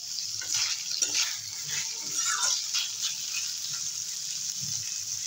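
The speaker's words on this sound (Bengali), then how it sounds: "ভালো করে নেড়েচেড়ে একটু কষিয়ে নেব।" Vegetables with spices are stirred and sautéed in hot oil in a home kitchen, giving a steady, close sizzle broken by soft scraping stir strokes, with no talking.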